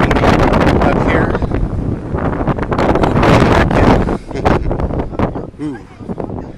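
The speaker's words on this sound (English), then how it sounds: "it's too windy." Strong wind buffeting atop the Tybee Island lighthouse tower, loud gusty roaring rushes that rise and fall, with a voice speaking briefly near the end.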